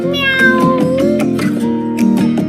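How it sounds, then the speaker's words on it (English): A cat meows loudly several times in a row, its cries sitting over a steady musical beat. "Next door, Mr. Jones lives with his cat, Meow."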